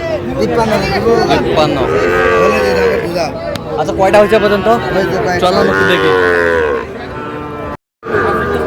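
Sahiwal bull cattle at a cattle market give loud, drawn-out moos that run through most of the stretch, with someone talking over them before a brief pause near the end.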